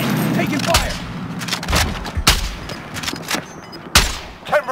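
Loud, close gunfire in a multiplayer shooter, with several sharp shots and bursts scattered irregularly over a few seconds while a voice talks in between.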